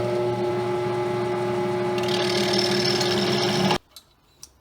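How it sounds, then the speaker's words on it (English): Drill bit boring out a Plymouth Barracuda door hinge clamped down with a little lube, a steady loud whine for nearly four seconds that rises in pitch midway, then stops abruptly, leaving a couple of faint knocks. "We actually have the right size drill bit, so we're just going to drill ours out"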